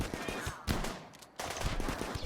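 Bursts of rapid gunfire in the video game RimWorld, two clusters separated by a brief lull, loud and close, with a faint voice briefly underneath.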